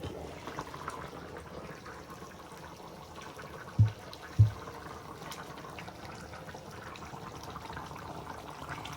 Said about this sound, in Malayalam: അങ്ങനെ ചിക്കൻ കറി എന്തായെന്ന് നമുക്ക് നോക്കാം. തിളച്ച് മറിയുന്നുണ്ട്.